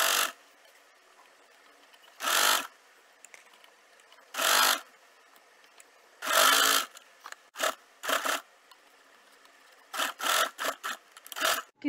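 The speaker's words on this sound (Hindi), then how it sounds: "अब इसकी स्टिच करेंगे" A sewing machine stitching a folded fabric edge for a flared sleeve in home tailoring, running in several short close bursts of whirring separated by pauses, faster run-stops near the end, no talking.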